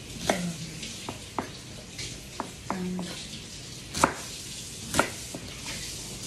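A knife cuts through food on a cutting board in sharp, irregular taps and thuds, about a dozen strokes close up, with faint background noise.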